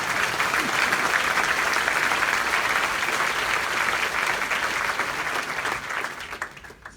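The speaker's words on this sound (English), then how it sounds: "Give yourselves a round of applause." A crowd at an evening gathering in Melbourne applauds itself, a loud, dense burst of clapping that carries on steadily for several seconds before quickly dying away at the end.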